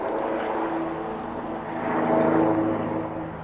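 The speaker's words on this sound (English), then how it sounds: "I don't know what's driving by on the highway right now, but it is loud" A loud vehicle passes on a nearby highway, a broad roaring drone that holds steady and swells louder toward the middle before easing slightly, heard alone without talk.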